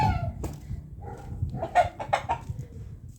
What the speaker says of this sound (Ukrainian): Так, півники.